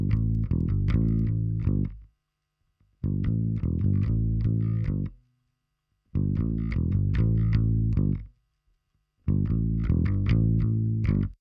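Chugging, distorted live electric guitar played through a bass amp plays riffs in four separate bursts, each a tight chopped pattern of heavy low chords with short silent gaps between them.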